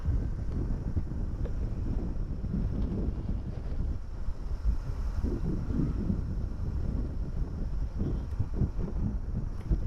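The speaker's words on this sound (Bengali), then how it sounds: "আর আজকে এত বাতাস" Strong wind in a sal (gajari) forest in Gazipur rushes and buffets the microphone in a steady low roar that lasts throughout, with no voices.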